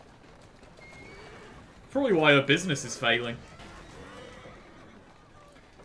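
Two horses pulling a carriage through the streets in Assassin's Creed Syndicate, their hooves clip-clopping at a steady pace in the background while someone talks over them.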